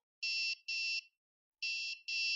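An electronic anti-intrusion alarm buzzer sounds in four steady, high-pitched bursts, two quick pairs separated by a short silence, loud and close.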